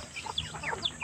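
A chick of a pure Indian Asil chicken gives a few thin, high chirps in quick succession, close and fairly clear against a quiet background.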